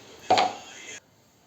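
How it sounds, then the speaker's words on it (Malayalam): Shallots are cut with a knife on a board for chickpea curry, a single brief, close chop that quickly fades to near silence. "ചെറിയ ഉള്ളി അരിഞ്ഞുകൊണ്ട് വരാം"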